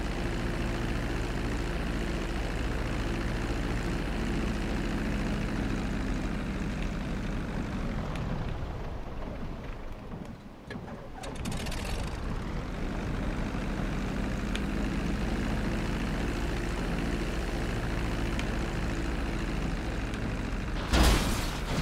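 An airplane engine drones steadily in Grand Theft Auto 5, a loud continuous low hum that dips and thins briefly around the middle before returning to full strength, with no talking.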